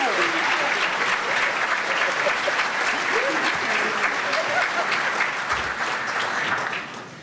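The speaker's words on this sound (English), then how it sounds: "Let's give the Boys and Girls Club of Central Illinois a hand clap." A breakfast audience at a Martin Luther King Jr. memorial event applauds steadily for the Boys and Girls Club, a dense, even wash of many hands that holds for several seconds before easing off at the end.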